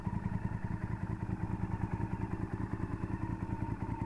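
A 2002 Honda VTR1000F Superhawk V-twin fitted with a Devil exhaust idles close by, its deep, steady, evenly pulsing rumble heard alone.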